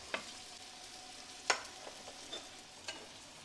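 Butter and mushrooms sauté in a pan over lower heat, giving a faint, soft sizzle with a few light scraping stirs at irregular intervals and no talking.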